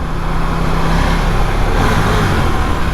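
KTM 890 Duke R motorcycle riding in pouring rain, a steady engine drone with a faint exhaust tone under broadband road and rain hiss, continuous and fairly loud, no talk.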